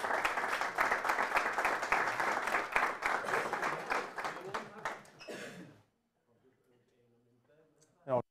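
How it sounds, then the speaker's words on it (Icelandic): An audience at an Icelandic handball awards ceremony claps in a dense, lively burst that fades out after about five seconds, leaving near-silence with faint sounds and a brief noise at the end. "Gefum Tryggva Garðari gott klapp."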